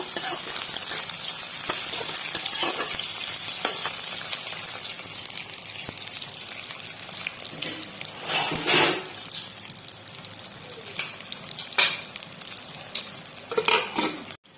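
Onions frying in a pan for an Assamese-style drumstick dish, giving a steady close sizzle throughout with occasional scraping stirs and clatter; no one speaks.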